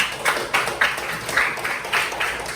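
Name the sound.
classroom students applauding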